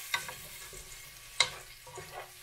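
Soft crackling sizzle of chopped onion frying in hot oil, with a couple of sharper pops and scraping stirs standing out over a low steady hiss.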